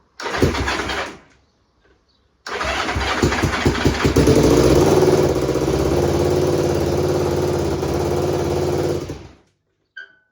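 BSA Fury SS (E35SS) motorcycle engine, just revived, gives a short burst, stops, then cranks and catches into a loud, close, steady running note that holds for several seconds before cutting out.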